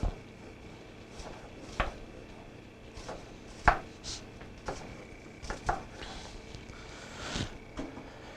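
A knife chops on a board in a home kitchen, sharp irregular taps a few per second, close and moderately loud, with light clatter between strokes and no talking.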